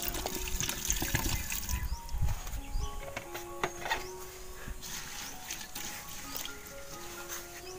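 One litre of water poured into a pot makes a fairly quiet, running trickle and splash, with scattered clatter in the background over several seconds.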